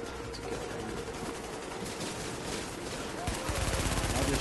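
Automatic gunfire from the video game The Division, a steady stream of rapid shots running the whole stretch beneath dense game noise, growing a little louder near the end.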